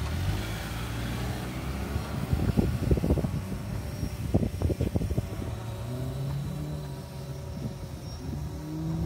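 A Mitsubishi Lancer engine revs up and eases off repeatedly while weaving around cones. The pitch climbs and falls in bursts under a constant roar of background noise, loud and close.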